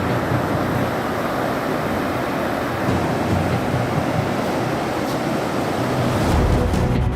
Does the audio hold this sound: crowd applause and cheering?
no